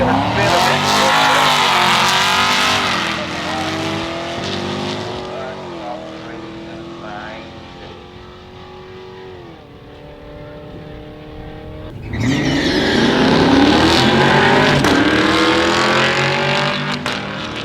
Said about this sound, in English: C7 and the C6 Corvette coming to the line here now.